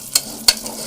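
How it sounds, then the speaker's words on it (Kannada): Moong dal roasting in ghee is stirred in a pan, with two quick, close scraping strokes over a faint frying crackle. "ಹೆಸರು ಬೇಳೆನ ಹಾಕ್ಕೊಳ್ತಾ ಇದ್ದೀನಿ. ಹಾಕೊಂಡು ಇದನ್ನ ಸ್ವಲ್ಪ ಈ ಥರ ಹಿಂಗೆ ಹುರ್ಕೊಳ್ಳೋದ ತುಪ್ಪದಲ್ಲಿ"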